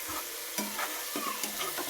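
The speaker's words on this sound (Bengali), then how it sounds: "পটল আলু কাঁঠালের বিচি ভাজি করা হচ্ছে।" Pointed gourd, potato and jackfruit seeds fry as a bhaji, a steady sizzle cut by three or four quick stirring scrapes against the pan, heard close with no voices.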